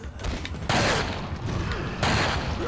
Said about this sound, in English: I'm gonna grab my magnum. And I'm gonna shoot in.